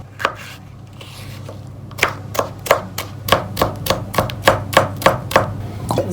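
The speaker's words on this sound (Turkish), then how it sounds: "Biberi de küçük küçük doğruyorum." Red bell pepper being diced into small pieces with a knife on a cutting board, a steady run of about fifteen crisp, close chops that speeds up after a brief quiet start, with a low hum underneath.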